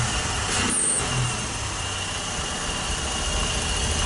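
A chainsaw engine with a carburetor needing work and a newly fitted fuel tank idles roughly, a steady close-up drone with no talking.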